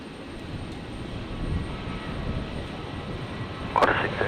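A Virgin Australia Boeing 737-700 taking off from runway 01 right at Brisbane International Airport in stormy evening weather, its engines giving a steady, fairly distant roar that swells slightly toward the end.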